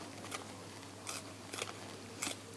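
Scissors chop spring onions in a kitchen with four quick, crisp snips spaced irregularly over faint room noise, quiet and close, with no talking.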